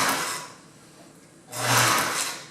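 Sewing machine stitching a visible upholstery seam for a custom Suburban interior, a steady mechanical whir that runs loudly, eases off in the middle, then surges back into a louder burst near the end.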